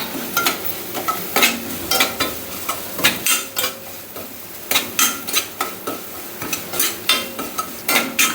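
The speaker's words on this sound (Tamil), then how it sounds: "அந்த ரவை இதில் போட்டு நல்லா பொறுன்னு வறுக்கும்" Semolina roasting in a little refined oil over a low flame for Chettinad ukkarai, a light sizzle under rapid, rhythmic scraping and tapping of a spoon against the pan, loud and close, no speech.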